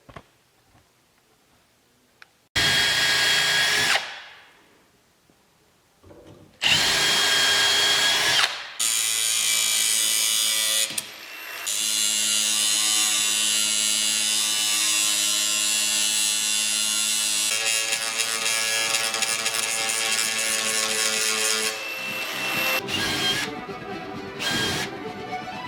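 Power tools grinding and then drilling out a rivet on a HydroStream boat's rub rail, loud high-pitched whining bursts that start and stop, followed by a long sustained drilling run with no talk.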